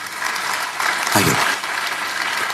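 Church congregation clapping during a sermon, a dense continuous patter of hands with a brief voice rising in the middle.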